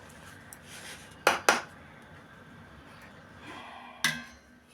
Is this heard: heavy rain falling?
no